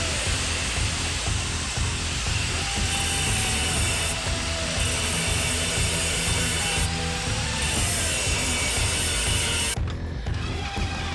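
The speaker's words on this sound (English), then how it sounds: "I'm going to cut these little nubs in here where it bends just a little bit thinner" A power tool cuts small nubs on a steel rear bumper piece for a 3rd-generation Toyota 4Runner, making a continuous loud whining grind that shifts slightly in tone as the cut goes on, ending abruptly near the close.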